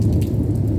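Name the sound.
thunder rumbling in a storm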